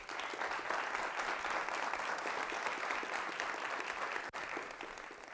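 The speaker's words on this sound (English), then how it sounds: "you do not have to wait to applaud. Applaud." An audience at a university Three Minute Thesis final applauds steadily for a finalist, with a dense, even wash of clapping that holds for several seconds and dips briefly near the end.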